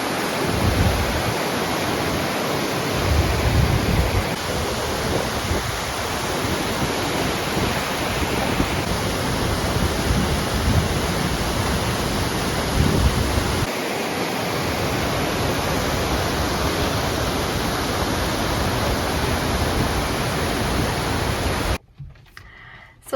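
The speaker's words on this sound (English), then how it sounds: "seeing these amazing waterfalls" A loud, steady broadband rush of a waterfall in the woods near Telluride, Colorado, roaring continuously and close by, with slight surges in intensity before cutting off abruptly near the end.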